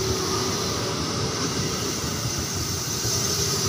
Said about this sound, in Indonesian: Ya kereta itunya jalan teman-teman.